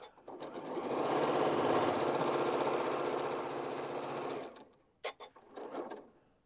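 A sewing machine stitches quilt blocks in a steady, close, buzzing whir for several seconds, then stops, followed by a few short handling noises.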